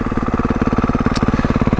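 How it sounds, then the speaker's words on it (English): A 2025 Honda CRF450R Works Edition dirt bike runs on a frozen, snowy trail, its single-cylinder engine thumping in a steady, even rhythm at a fairly constant speed, loud and close with a brief hiss partway through. "That engine is so smooth, such good rideability"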